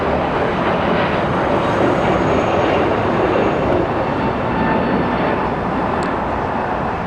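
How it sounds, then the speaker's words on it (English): A Korean Air Boeing 747 flies downwind to land at Los Angeles with a broad, steady engine rumble and rushing roar that stays loud and even from start to finish. "Korean 747"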